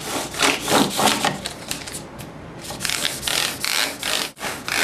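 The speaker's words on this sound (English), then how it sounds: "You hit it with 320 sandpaper, and I'm just doing the 600 just to take the last little bit out" Guitar frets being sanded with fine 600-grit sandpaper, a close scratchy rubbing in quick back-and-forth strokes with a brief pause midway.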